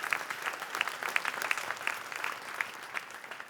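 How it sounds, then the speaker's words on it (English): Applause from an audience at an engineering design competition, steady and moderately distant, with a thick patter of many clapping hands and a few sharper individual claps for several seconds. "Let's give him a very warm round of applause for the competition he designed."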